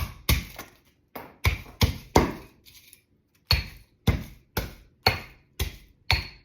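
Garlic cloves crushed in a hand crusher for sauerkraut, a series of sharp, close crunching taps in uneven bursts, about a dozen strikes with short pauses between them and no talking.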